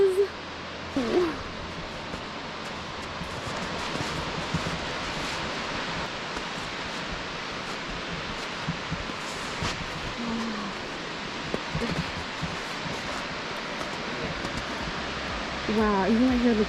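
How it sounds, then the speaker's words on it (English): Steady broadband rushing water from Rancheria Falls and a flowing river near Huntington Lake, California, fills the whole stretch, with brief voices near the start and end. "I can hear the waterfall"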